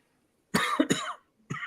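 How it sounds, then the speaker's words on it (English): A person coughs in a quick burst of two or three harsh coughs, followed by a short pause and one more cough, close to the microphone with no talking. "cough is contagious"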